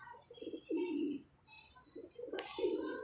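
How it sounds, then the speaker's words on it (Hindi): Pigeons cooing in a loft where a female is paired with a male, soft repeated low coos in short bursts, close by, with a brief sharp chirp near the end. "ये फ़ीमेल उस कबूतर के साथ लगी हुई है"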